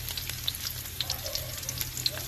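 Garlic and onion sautéing in a pan, a steady soft sizzle with scattered small crackles and pops, close and continuous with no talking.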